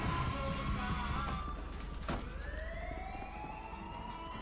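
Emergency vehicle siren in the video game GTA 5, a steady electronic wail rising and falling over a constant engine and road hum, with a brief clank partway through.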